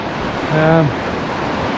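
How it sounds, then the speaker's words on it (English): Water rushes at the north branch of the Ashburton River crossing on the Te Araroa trail, a loud, steady wash close by. A brief tonal hum rises in the middle. "here's the 16th river crossing so far"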